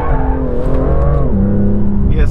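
A BMW M2's three-litre turbocharged six-cylinder engine hums in a smooth, steady drone that dips slightly in pitch, with someone talking over it.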